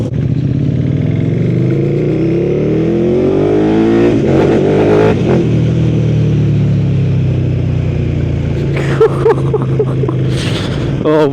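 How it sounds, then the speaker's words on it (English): A Yamaha MT-09 motorcycle roars past close by, its engine revving hard and the pitch dropping as it sweeps past, then it keeps growling and blipping the throttle loudly as it pulls away. "some flybys on the MT-09 through it, which I'm sure will sound absolutely insane"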